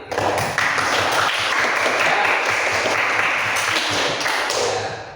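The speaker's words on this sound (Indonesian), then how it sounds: "Tepuk tangan untuk kami yang sudah menyelesaikan labirin dalam waktu 5 detik" A classroom of students applauds for finishing a maze, dense, continuous clapping that fills the room for several seconds, with a brief spoken word at the start.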